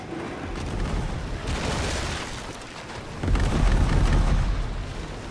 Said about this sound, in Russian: Почему я делаю два выстрела за место трех?